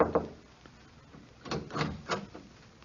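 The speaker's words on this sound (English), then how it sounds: "I knocked on the apartment door." Knocking on an apartment door in a 1940s radio drama: a single rap near the start, then after a pause three heavier knocks, spaced apart and close by against a quiet background.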